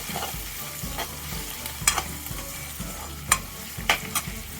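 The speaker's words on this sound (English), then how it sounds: "So we will wait for the onions to be translucent." Onions sautéing in a pan while cooking white radish thoran, a steady close frying sizzle punctuated by repeated sharp scrapes and taps of a spoon stirring against the pan.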